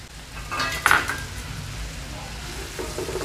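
Chopped onions with curry leaves and green chillies sauté in oil in a pan, a soft steady sizzle broken by a sharp metallic clink of a utensil against the pan.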